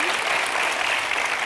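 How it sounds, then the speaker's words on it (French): A brief burst of warm, dense audience applause for Muriel on a French television show, loud and continuous throughout. "Des applaudissements chaleureux que vous méritez bien, Muriel, avec ce beau métier"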